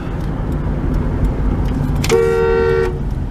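A 1995 Chevy Astro van's horn gives one steady honk of under a second, loud and close over the continuous rumble of road traffic inside the moving van.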